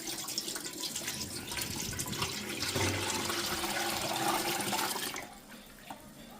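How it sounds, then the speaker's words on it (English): Turkey broth poured through a big strainer into a stock pot: a continuous, loud rushing splash of liquid lasting about five seconds, then tapering off to quieter dripping and trickling. "So we'll get the big strainer. And then get all the broth in there."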